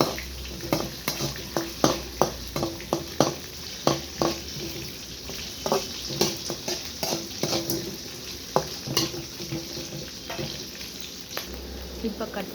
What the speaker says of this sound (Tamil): வெங்காயம், 2 காஞ்ச மிளகாய். இப்போ இது நல்லா வதங்கிடும்.